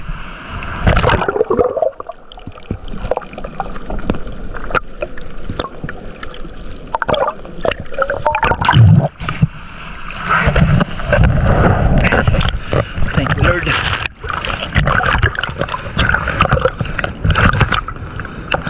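Water sloshes and churns loudly around a small boat in shallow water with big waves and foam, a steady rushing wash with gurgles and bumps and no clear talking.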